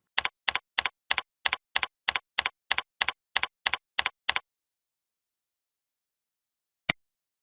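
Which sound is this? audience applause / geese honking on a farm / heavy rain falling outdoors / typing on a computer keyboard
typing on a computer keyboard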